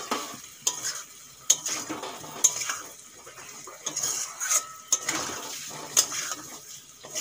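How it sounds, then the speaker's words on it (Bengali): Fried potatoes being stir-fried with spices in a pan: a spatula scrapes and clacks against metal in a repeated stirring rhythm over a soft sizzle, close and fairly loud. "মশলার সঙ্গে আলু একটুক্ষণ কষিয়ে নেব।"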